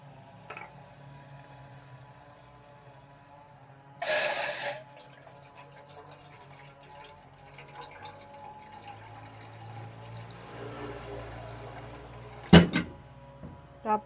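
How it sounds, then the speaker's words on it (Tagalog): Water poured into a cooking pot on a lit gas stove gives a short, loud splashing burst partway through, set against a quiet kitchen hum, with a couple of sharp clinks near the end. "Lagyan ko siya ng konting tubig."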